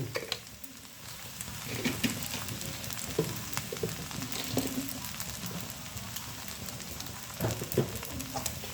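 White rice noodles are stir-fried with sugar in a pan, a steady soft sizzle with scattered clinks and scrapes of stirring at moderate volume, with no voice.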